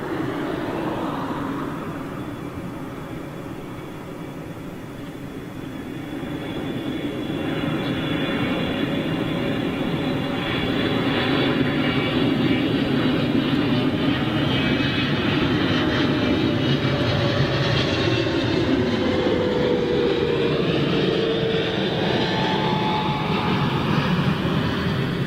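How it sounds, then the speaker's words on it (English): An Emirates Boeing 777-300 jet airliner at London Heathrow gives a steady, loud jet engine roar that swells after a few seconds and holds for the rest of the clip, with no talking. "Emirates 777, of course we see Sky Cargo at London Heathrow, but to see the 777-300"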